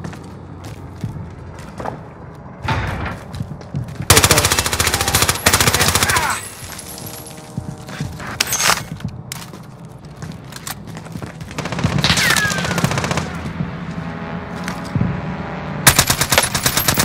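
Machine gun fire in a shooter video game, loud sustained automatic bursts with a heavy stretch around 4 to 7 seconds and further volleys later, with radio chatter and other game sounds between.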